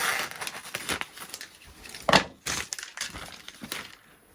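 Scissors cut through material during an RC flying-wing build, making a series of crisp, close snips and crunching cuts at irregular intervals, with one sharper crackle partway through.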